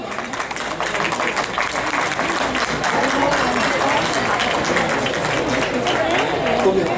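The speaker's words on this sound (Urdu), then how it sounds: "آپ کی تالیاں۔" A sustained round of crowd applause fills a mushaira poetry gathering held for Independence Day, dense steady clapping from many hands that continues for several seconds.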